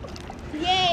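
Water splashing in a swimming pool where kids play a game, a brief splash building at the end over a voice.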